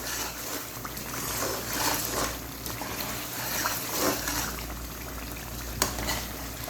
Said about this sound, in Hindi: जब भी आपकी इस तरह की बुबड़ियाँ बन रही हों, बबल्स बन रहे हों, तो आप समझ जाएं कि आपका मसाला अच्छे तरीके से कुक हो चुका है।